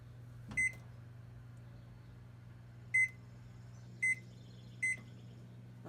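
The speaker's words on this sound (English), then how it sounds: "If you're lucky enough to have a fancy thing like this, you set the timer." An oven timer is set while baking an apple crisp: a low constant hum of the running appliance with four crisp, short electronic beeps spaced unevenly over several seconds, close and clear, with no voices.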